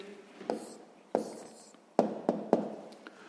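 Someone writes an answer by hand, with a pen scratching and tapping on paper in short strokes and distinct taps, close and quiet, with no talk.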